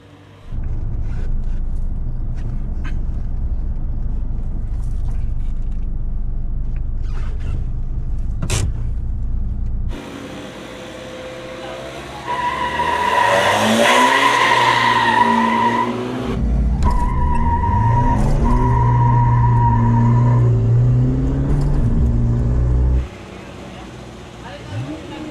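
Pickup trucks, including a Hilux with a short exhaust pipe, drag race at a Kadayawan event. Engines roar loudly for a long stretch, then revs climb and shift with tire squeal as they launch and pull away.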